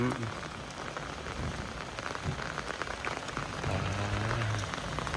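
Rain falling outdoors in rural Thailand, a soft continuous patter of drops on surfaces that swells slightly toward the end, fairly faint, with a low voice briefly heard.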